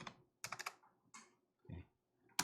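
Computer keyboard keys pressed in short bursts of sharp clicks, a few quick taps clustered together then separated by pauses, close and fairly quiet while entering values in Illustrator for a GTQ exam exercise.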